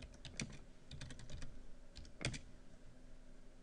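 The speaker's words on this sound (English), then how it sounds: "You can begin by typing in text." Someone types text on a computer keyboard in quick, uneven bursts of soft clicks with short pauses, close and fairly quiet.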